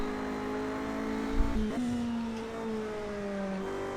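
Race car engine in the Project CARS video game, droning steadily with a quick throttle blip and pitch shift mid-way, then settling into a smooth rising tone, alone without talk.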